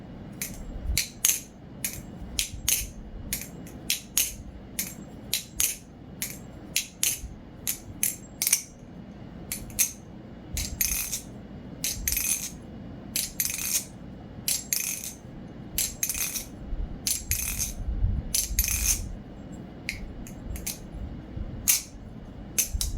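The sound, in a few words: dry sound test of BBBarfly Barracuda balisong flipping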